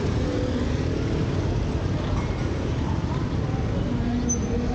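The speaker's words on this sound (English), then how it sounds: "Look at this traffic here." Busy street traffic in Phnom Penh, Cambodia, a constant dense wash of engines and road rumble heard from the roadside, with faint horn-like tones here and there.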